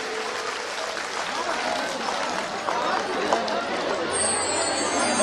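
A crowd claps for the Swami at a religious gathering during an outdoor yajna ritual, with continuous applause mixed with murmuring voices and a bright tone entering near the end.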